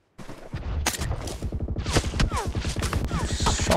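Gunfire in the video game PUBG Mobile: a rapid burst of repeated shots crackles in quick succession, dense and rhythmic, fairly close and alone without talk.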